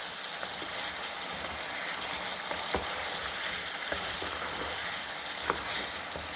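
Mutton and pumpkin fry in ghee in a pan with a steady, close sizzle, punctuated by occasional soft pops and faint scraping throughout.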